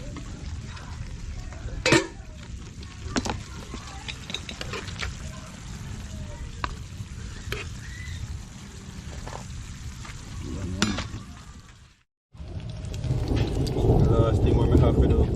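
Plantain frying in a pan, a steady broadband sizzle running throughout with scattered sharp pops and crackles, a brief drop near the end before the frying hiss returns louder and fuller.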